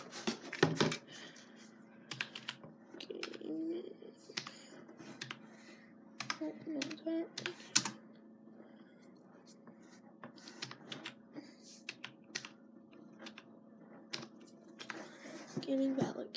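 Typing on a gaming backlit keyboard, with quick, light clicking keystrokes in short irregular bursts close by, under and between a person's quiet talk.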